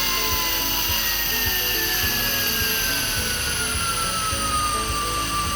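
An ASIWO U1 electric outboard motor runs in gear with a steady, continuous high-pitched electric whine and hum, several sustained tones drifting slightly downward, close and fairly loud with no voices.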